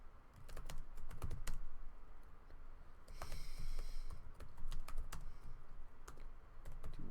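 Rapid typing on a computer keyboard, a steady run of light clicky keystrokes close by, with a brief burst of brighter hiss partway through and no talking.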